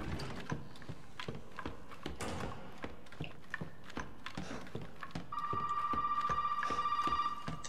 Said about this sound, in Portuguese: Meu telefone de novo.